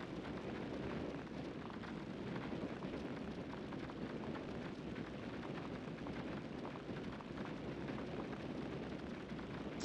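A relentless, dense rumble of overlapping bomb blasts in the game Trove forms a loud, continuous crackling roar with no clear gaps, as if many explosions were going off at once.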